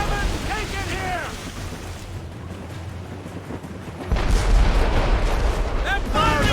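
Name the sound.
ship cannon fire in Assassin's Creed Rogue video game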